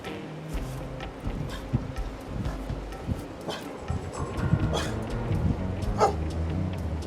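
Dogs bark outside a farm property at night, several sharp bursts and yips of moderate loudness scattered through the stretch amid background rustle and vehicle hum.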